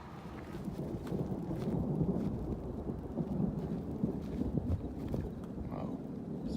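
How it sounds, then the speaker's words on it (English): Deep thunder rolling during a storm beside a cemetery in Tonopah, Nevada, a sustained low rumble with some rain-like texture that stays steady and moderately loud throughout. "Some big thunder."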